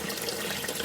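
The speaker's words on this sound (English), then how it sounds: "So right now we have water flowing out." Water gushing steadily out through an external aquarium siphon overflow, a dense, continuous splashing rush like a running tap, close and fairly loud with no pauses.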